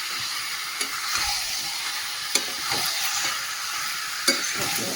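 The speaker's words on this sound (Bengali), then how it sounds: "মাংসটা দিয়ে এবারে কষাবো।" Chicken meat is stir-fried in a spiced masala, a steady close sizzle broken by three sharp spatula knocks against the pan and softer scraping strokes in between; no voices.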